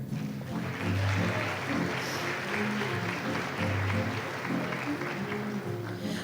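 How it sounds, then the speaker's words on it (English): A crowd claps continuously in a school assembly hall, a dense, even patter of applause that holds steady throughout. "Please give a round of applause to Ms. Bailey Richards and Mr. Benjamin MacA"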